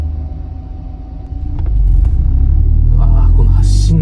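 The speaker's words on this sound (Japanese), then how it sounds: "この発進の時の振動すごいな。" Mazdaspeed3 fitted with a race rear motor mount pulling away from a stop, a loud close low rumble and vibration that builds and steadies inside the car, with someone talking over it.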